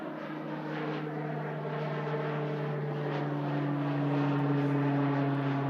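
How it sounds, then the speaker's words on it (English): Pilatus PC-12 NGX single-engine turboprop passing at Manchester Airport, a steady propeller drone with strong sustained tonal hum and rising overall loudness as it draws nearer, alone without talk. "There goes the Pilatus PC-12"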